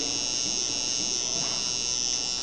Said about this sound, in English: this is the new shaver that we have in the range. And the foil's on top.